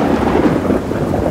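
A thunderstorm sound effect rolls out as a loud rumble of thunder over steady heavy rain, continuous throughout with no voices.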